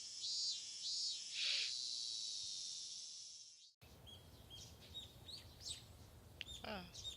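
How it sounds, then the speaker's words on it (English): Morning birdsong in a village setting from the Higurashi visual novel game: a steady high bird chorus gives way to scattered chirps and tweets over soft ambient noise, with no talking. "Ah, the birds are singing."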